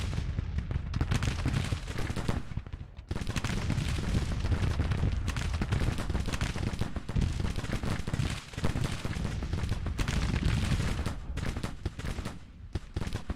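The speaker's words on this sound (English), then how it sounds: "they've been shooting their cannons all day" Dense cannon and artillery fire from a Civil War battle in Grand Tactician: The Civil War, a continuous rolling barrage of booms and crackling volleys layered over each other, loud and sustained with brief lulls.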